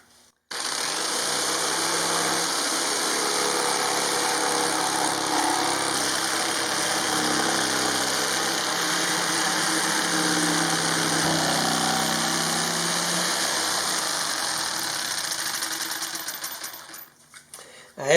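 A jigsaw cuts a hole through an RV ceiling panel, its steady buzzing whine running continuously for most of the stretch before winding down and stopping near the end.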